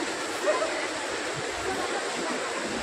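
Ganga river waves rushing at Har Ki Pauri in Haridwar, a steady, loud, broadband roar of churning water that runs through the whole stretch without pause.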